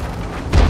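A single deep, heavy tank cannon boom from World of Tanks bursts out near the end after a steady wash of background battle noise.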